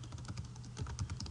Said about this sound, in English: I'm going to type a file name.